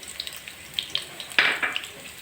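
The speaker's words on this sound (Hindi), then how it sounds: "अब मैं इसके अंदर फ्राई करूँगी लहसुन जो हमने चॉप किए थे।" Chopped garlic frying in olive oil in a pan, a soft steady sizzle with scattered crackles and pops up close, no voices over it.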